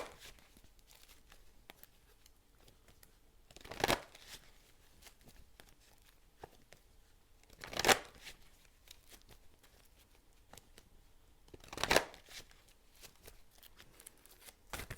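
Numerology cards being shuffled in a quiet room, three sharp riffling bursts spaced about four seconds apart, with faint handling rustles in between and no talking.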